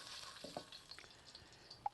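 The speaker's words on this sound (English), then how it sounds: "You can hear the oil sizzling." Oil sizzles in a hot wok on a StoveTec rocket stove, a faint, steady hiss broken by a few small pops and clicks.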